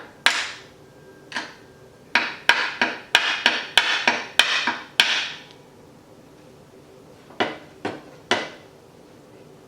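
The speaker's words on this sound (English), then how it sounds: "this looks like a great place to stick a screwdriver and tap with a hammer" Sharp metallic taps of a hammer striking a screwdriver while working on a Honda CB350 cafe racer, first a few spaced hits, then a rapid run of blows, then three more taps after a pause.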